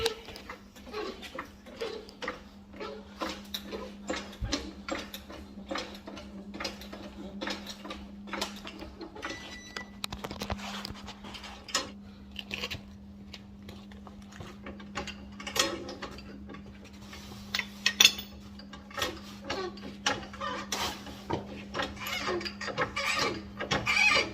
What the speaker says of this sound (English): then I can go ahead and jack her up.